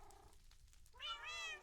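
Minecraft cats meow softly in a world crowded with around forty of them; a faint, short meow comes first, then a clearer, rising meow close by over quiet game ambience.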